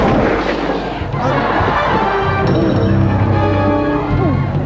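A gunshot rings out in a Thai comedy film scene, a loud blast followed by a booming, rumbling tail under steady background noise.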